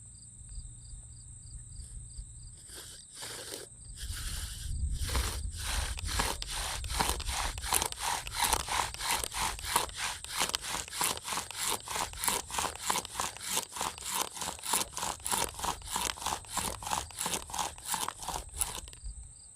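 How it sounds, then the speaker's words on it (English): Wooden bow drill spindle burning a socket into a softwood lumber fireboard, heard as steady rhythmic back-and-forth rasping strokes, close and loud, with no talk. "So I'll go ahead and burn the set in so I can cut the notch"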